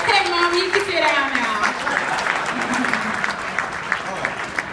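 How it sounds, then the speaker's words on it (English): Crowd applause fills the room, steady and fairly loud throughout, with a voice speaking briefly over the clapping near the start. "Let's give her a round of applause."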